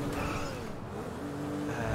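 A car driving along a highway near a spaghetti junction in GTA V, with a steady engine drone and road rumble, moderately loud and unbroken, no talking.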